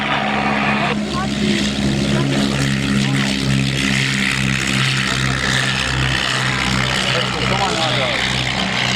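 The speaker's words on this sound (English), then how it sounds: "For the landing of the IAC 50." An IAC 50 aircraft lands at an air show with a steady propeller drone and strong low engine harmonics. A loud public-address voice talks over it throughout.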